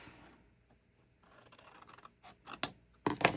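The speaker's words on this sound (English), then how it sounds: "So we're going to cut this square completely off" Scissors snip through paper to cut off a square for a junk journal accordion pocket, a few crisp close cuts growing louder toward the end after quiet rustling.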